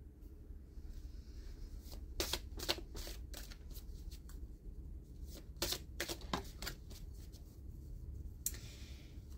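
Oracle cards from a dream oracle deck being shuffled by hand, several brisk riffling bursts with quiet pauses between, close and soft, no talk.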